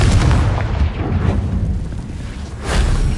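In Hogwarts Legacy a Confringo spell blasts apart rocks, giving a heavy explosive boom at the outset that rumbles down, then a second loud burst near the end.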